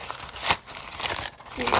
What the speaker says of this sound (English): Uncrumple it.